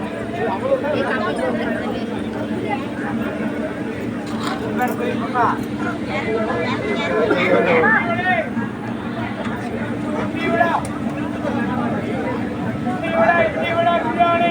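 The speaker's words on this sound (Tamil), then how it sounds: "ஃபுல்லாக கூட்டம் தாங்க செம்ம கூட்டமாக இருக்குது வண்டி" A crowded railway station platform on the Karur to Mysore route via Salem, with a steady low hum and a dense babble of many voices throughout, and nearby talk rising above the crowd at times.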